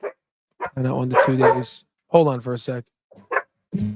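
Dogs bark and yip excitedly in the background as they jump around someone arriving at the door, with the bursts set among and under a man's close speech.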